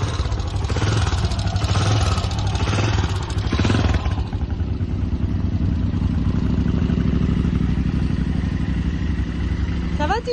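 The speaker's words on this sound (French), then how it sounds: "on a démarré la moto en même temps sans le savoir" Motorcycle engines on a rally in Morocco start up and rumble steadily at idle, with clattery revving and voices talking over the engine noise in the first part before it settles into a continuous idle.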